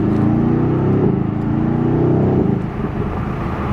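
A 2020 Mercedes-AMG GT R in Sport Plus mode with the exhaust open, accelerating in second gear: a deep, loud engine roar that builds steadily, then eases slightly toward the end, with no talking over it.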